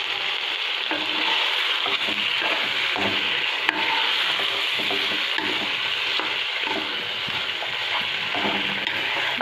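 Chopped green chillies frying in a pan for shinwari beef, with a dense, steady sizzle and the soft scrape and shuffle of stirring, close and continuous.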